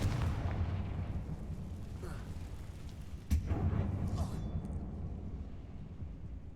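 A Confringo spell explosion in Hogwarts Legacy, a low rumbling blast with a sharp boom midway, fading into debris and rumble afterward.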